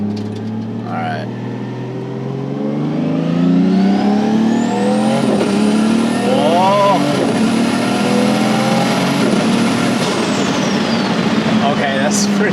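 A 700hp Nissan R33 GT-R with a sequential gearbox accelerates hard from inside the cabin, engine rising in pitch through several quick shifts under a loud continuous roar, with people talking over it.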